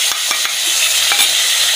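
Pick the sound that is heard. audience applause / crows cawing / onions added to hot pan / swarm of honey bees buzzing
onions added to hot pan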